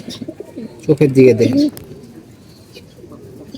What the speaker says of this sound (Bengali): এখন একটা আর্মি কবুতর দেখাবো দেন আর্মি কবুতরটা